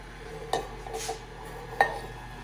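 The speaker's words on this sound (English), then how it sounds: "First, we're gonna beat in our egg" An egg is beaten into cookie dough in a bowl, producing a few soft scraping strokes and two sharp clinks of a utensil against the bowl, close and quiet.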